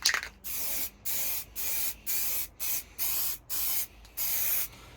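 Spray gun applying a wet coat of primer to a blast shield, nine short bursts of hissing spray separated by brief pauses in a regular rhythm, close and clear with no talking.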